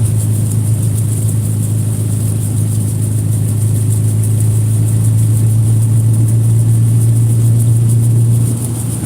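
A car engine hums steadily with a strong low drone while the car drives at light throttle. The sound holds constant and close for the whole stretch, then eases slightly right at the end. No one speaks.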